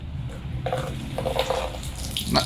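Liquid pours steadily into a glass, a continuous close splashing trickle lasting a couple of seconds, with a brief brighter splash near the end.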